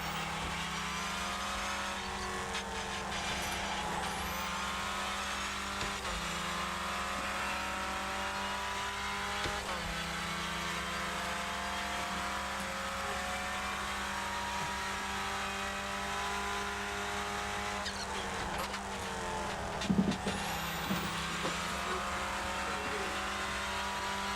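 Engine of a Hyprix Clio Cup race car in the iRacing sim, a steady droning hum with shifting rev harmonics that fails to climb to maximum revs, plus a brief louder burst near the end.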